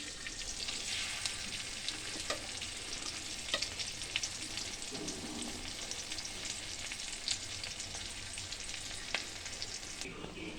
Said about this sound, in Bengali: এখানে আমার কাজু কিশমিশ আর কাঁচা লঙ্কাটা বেশ সুন্দরভাবে ফ্রাই হয়ে গেছে